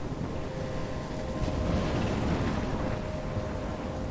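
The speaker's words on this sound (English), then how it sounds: "I'm trapped in a storm?" A thunderstorm in the Life Is Strange Remastered video game: steady, dense rain and rumbling thunder fill the whole stretch at a loud, even level, with wind buffeting throughout and no voices.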